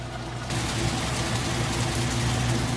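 A Whirlpool washing machine spins at top speed during its final rinse, a loud, steady, even drone with a low hum that rises slightly after the first half second.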